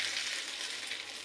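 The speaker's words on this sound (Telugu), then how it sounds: "చూసారా, ఆయిల్ తక్కువలో మనకి ఎంత బాగా ఫ్రై అవుతాయో." Fish shallow-frying in a small amount of oil gives off a steady, close hiss of sizzling that holds even throughout, with no voices.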